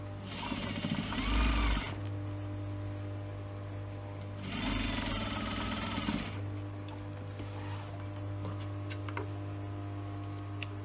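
A domestic sewing machine stitches a fabric panel in place on a cosmetic pouch, running in two steady bursts with a pause between them, close and moderately loud under a constant electrical hum.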